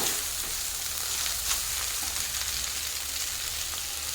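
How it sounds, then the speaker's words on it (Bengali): Drained chowmein noodles stir-fry in a hot pan with a continuous bright sizzle, loud and close, steady throughout. No voices are present. "এখন দিয়ে দেব জল ঝরিয়ে রাখা চাউমিন। ভালো করে নাড়িয়ে মিশিয়ে দেবো।"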